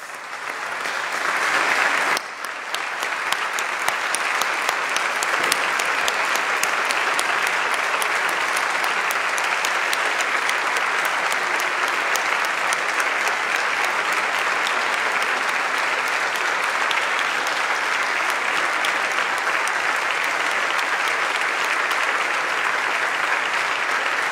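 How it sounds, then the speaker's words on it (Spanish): Sustained applause from a large crowd, steady and dense, continuing without pause for over twenty seconds. "les pido por favor que nos pongamos de pie y brindemos un sostenido aplauso"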